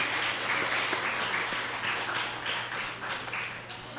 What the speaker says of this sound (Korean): 수고하셨다고, 잘 이렇게 인도받으셔서 감사하다고 박수 한번 쳐주시기 바랍니다